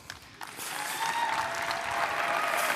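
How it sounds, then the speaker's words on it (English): An audience at a bank's digital day event breaks into applause, starting faintly and quickly swelling into sustained, fairly distant clapping from a crowd. "I don't think I heard the applause."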